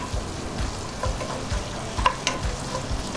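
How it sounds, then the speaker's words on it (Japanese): Meat and garlic stir-fry over medium heat in a pan as the base for borscht, with a soft steady sizzle broken by a few light scraping and clinking stirs. "中火程度で炒めていきます。"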